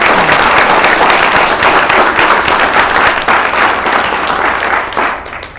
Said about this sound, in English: Those who believe no, please applaud.